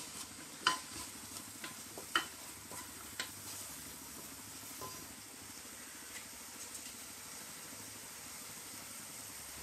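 Vegetables with salt and curry leaves sauté gently in a pan, a faint low sizzle under a few light taps and scrapes of a spoon early on, then a quieter steady hiss.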